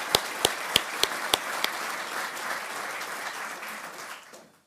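An audience at a military change of command ceremony applauds: a few sharp, distinct claps open into a dense, steady round of clapping that holds, then quickly fades out.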